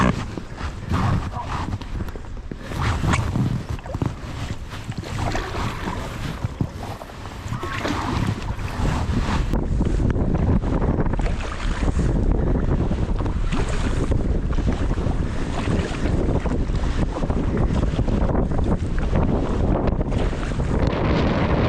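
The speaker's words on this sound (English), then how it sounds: "it's bloody windy" Heavy wind at a campsite in Keswick buffets the microphone throughout, a loud, rumbling roar with gusty bursts and crackles, nearly drowning out everything else.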